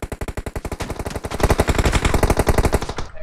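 Rapid automatic gunfire in PUBG Mobile, loud and close, a steady burst of evenly spaced shots that continues for the whole stretch and grows heavier partway through, with no talking.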